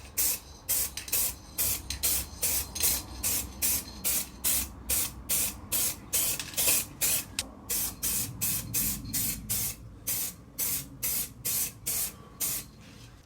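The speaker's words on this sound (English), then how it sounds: "start hitting it with some satin silver metallic" A spray can lays satin silver metallic paint onto a Mk4 VW Golf GTI in rapid, regular hissing bursts, a couple per second for over a dozen seconds. Each burst is short and sharp, with brief pauses between them.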